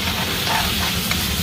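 Dry spices such as turmeric, chili, cumin and coriander powder fry in a pan for crab malai curry, a steady close sizzle with faint stirring scrapes.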